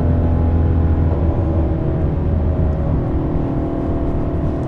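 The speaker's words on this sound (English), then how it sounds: "This is just exhaust." Ford Shelby GT350 exhaust while driving on a road, a deep steady rumbling drone with a low throaty tone, loud and continuous, heard from inside the car with no talk.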